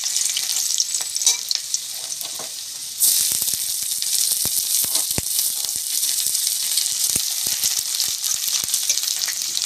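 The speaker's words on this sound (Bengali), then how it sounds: "এরপরে দেওয়া হচ্ছে রসুন কুচি আর আদা কুচি।" Chopped garlic and ginger hit hot oil with dried red chillies for chilli chicken, a loud, steady hiss that surges even louder partway through, dotted with sharp crackles and stirring scrapes close by.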